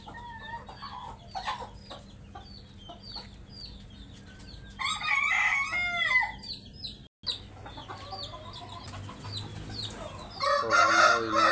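Hens cluck and a rooster crows repeatedly, loud and close, at a home chick-hatching setup, with bursts of crowing in the middle and end over a steady low hum.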